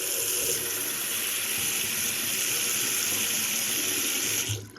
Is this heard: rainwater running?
yes